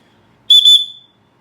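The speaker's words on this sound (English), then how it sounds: "So that's a good loud little whistle." A short aluminum survival whistle gives one loud, piercing shrill blast of about half a second, close up, in an otherwise quiet setting.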